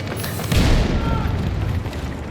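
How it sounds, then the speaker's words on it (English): Deep rumbling boom of a vehicle blowing up in the video game Battlefield 6, a heavy blast that rolls on in a long, noisy decay. "We're gonna blow it up too"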